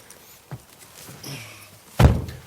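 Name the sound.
Mercedes V-Class 2019 front door opening and slamming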